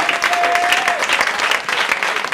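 A church congregation bursting into sustained applause during a service, dense, steady clapping from many hands throughout with a voice briefly audible over it.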